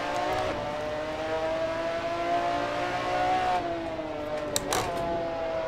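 A McLaren F1 GTR race car engine at Laguna Seca howls steadily at high revs, a loud, continuous, near tone that dips briefly as the car shifts, with no talk.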